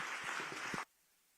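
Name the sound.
audience applause for the panel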